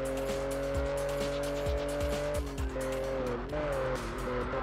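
A Noble car in the Test Drive Unlimited racing game spins out while off-roading, its engine droning steadily as tires squeal and skid loudly through the turn, with a shifting engine pitch as it recovers.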